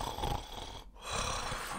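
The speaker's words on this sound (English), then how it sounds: "stop snoring" Snoring rumbles in two long, rough, breathy stretches separated by a brief pause, close and fairly loud, with no speech.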